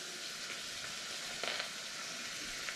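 Maitake mushrooms broken by hand straight into a hot chicken stew pot, giving a steady close sizzle with a few soft handling taps midway and no voices.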